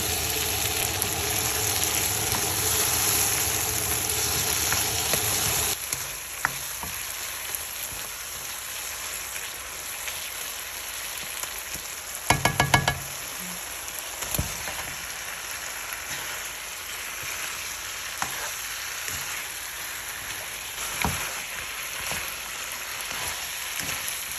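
Loud sizzling of food frying in a pan fills the first few seconds, then drops to a quieter crackle with occasional clinks and taps.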